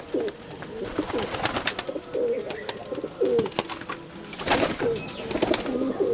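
Racing pigeons coo repeatedly inside a loft, several soft rolling calls overlapping at close range with scattered chirps and rustling, no talk.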